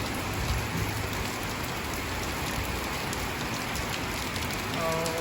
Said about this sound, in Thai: โอ้ยฝนตกหนักเลยครับผมเมื่อกี้นี่ก็พายุเข้านะครับ